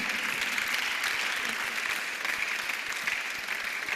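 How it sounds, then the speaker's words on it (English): An audience at a conference event gives a steady, sustained round of applause, even and unbroken, heard at a moderate level with no one speaking over it. "With a clapping ovation"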